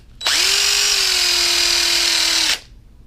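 A power drill whirs steadily at high speed for about two seconds, loud and close, then stops abruptly.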